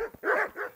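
A dog in the medieval video game Kingdom Come: Deliverance gives two or three quick, close barks in a short burst, with no talk over it.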